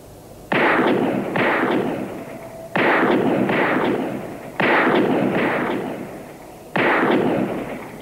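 Gunfire during target shooting: four loud, sharp shots in separate pairs or singles, each with a long decaying echo, spaced about two seconds apart and heard with no voices.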